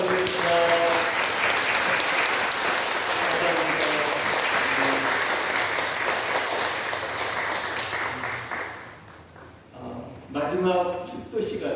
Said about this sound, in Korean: 환영의 박수 드리겠습니다.